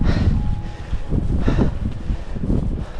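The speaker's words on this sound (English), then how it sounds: "The wind has really picked up" Strong wind gusting steadily on a cold night high in the mountains of Singalila National Park, a broad low roar with rising and falling gusts close to the microphone, no voices.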